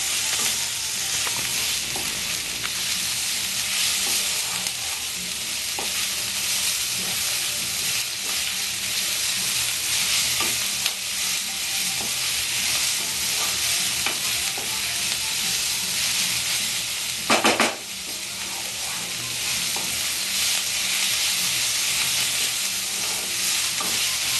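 Ginger garlic paste frying in oil for a Bengali egg curry gives a steady, close sizzle with a soft hiss and occasional stirring scrapes that keep going without a break.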